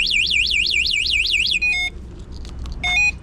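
The anti-theft alarm on a Kugoo V3 Pro Plus electric scooter sounds up close as a rapid, warbling electronic siren. It then breaks into a few short, sharp beeps.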